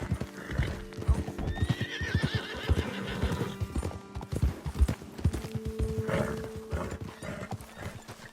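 Horse hooves clip-clop steadily on hard ground in Red Dead Redemption 2, several horses moving together, with a horse whinnying and snorting partway through.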